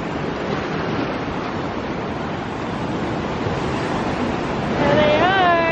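Morning surf on a sunny beach gives a constant broad wash of breaking waves, loud and close, with a brief whistling tone rising over the roar near the end.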